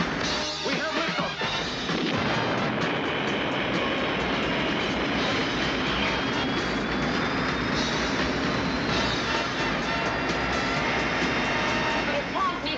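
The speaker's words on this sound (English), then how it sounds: "We have liftoff." Roaring, rumbling lift-off of a spacecraft in the science-fiction series Space: 1999, a dense, loud, continuous thrust noise that builds within the first two seconds and holds steady throughout.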